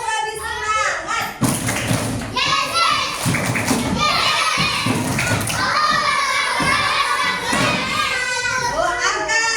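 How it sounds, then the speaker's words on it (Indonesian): A class of young children performs the 'tepuk semangat' spirit clap once more, a rhythmic run of thumping group claps at close range over excited children's voices and a teacher talking. "Tepuk lagi semangat."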